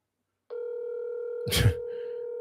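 A steady electronic telephone tone starts and holds before a voicemail, close and clear, briefly interrupted by a short breathy burst that sounds like a sneeze or cough.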